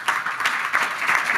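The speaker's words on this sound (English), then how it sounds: "some applause for you." Steady applause from a panel audience at a Kyiv conference on human security, a dense wash of many hands clapping at even loudness throughout with no talk over it.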